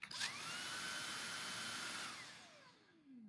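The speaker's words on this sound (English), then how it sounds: "when I click the trigger, it's going to keep the vacuum on until I click the trigger again" A Dreame R20 cordless car vacuum whirs into a steady high-pitched motor whine right after a click, holds for about two seconds, then spins down with a falling tone as it shuts off.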